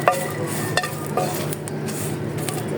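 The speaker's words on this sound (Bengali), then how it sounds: "আমি শুকনো মরিচ এবং রসুনগুলো একসঙ্গে ভেজে নিতেছি ভর্তা করার জন্য।" Dried chillies and garlic fry together in a pan, giving a short, steady sizzle with a few light utensil clinks and stirs close up.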